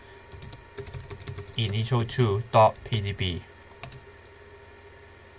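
Keys clatter as a command is typed on a computer keyboard to import a PDB file into GROMACS for a benzene molecular dynamics run, fast bursts of close clicks with a person talking over them.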